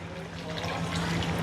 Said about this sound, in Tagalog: purong gata to. Wala tong halong tubig. Buhos na natin lahat.